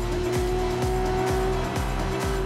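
Engine in the Need for Speed Rivals racing game roars loudly and continuously under acceleration, with a steady high tone and rhythmic gear-shift dips every half second or so.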